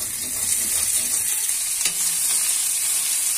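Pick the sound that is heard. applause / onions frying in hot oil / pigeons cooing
onions frying in hot oil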